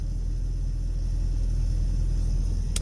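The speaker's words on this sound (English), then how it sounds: "There's a Can-Am right there." Steady low engine rumble from a Can-Am side-by-side on a downtown Las Vegas street, a constant near drone with broadband road noise and no talking.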